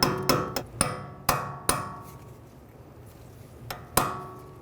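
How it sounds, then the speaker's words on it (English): Sharp metallic taps from a hammer striking a chisel to knock the hub cap off a rear wheel of a 2013-2016 Dodge Dart, about eight close, ringing blows in irregular clusters with a quieter pause midway. "I'm just going to use a chisel and a hammer. Just tap it off."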